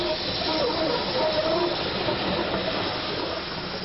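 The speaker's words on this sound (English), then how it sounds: "here small prairie tank 4559 runs round for the onward journey to Wade Bridge" Small prairie tank steam locomotive 4559 running round at Bodmin General terminus in 1967 gives off a steady, close hiss of steam with a low mechanical undertone that fades slightly toward the end.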